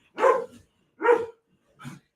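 Dogs bark at a passing delivery truck: three short, sharp barks spaced about a second apart, close by and clear against silence, the last one softer.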